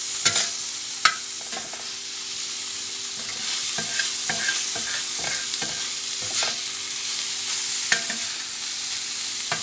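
Tandoori chicken roasts in butter on a tawa, with no added oil, and sizzles steadily up close. A spatula stirs and scrapes the pan, giving occasional clinks, and no one speaks.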